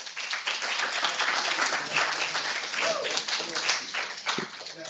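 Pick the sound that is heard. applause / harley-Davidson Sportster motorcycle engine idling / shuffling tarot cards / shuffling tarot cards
applause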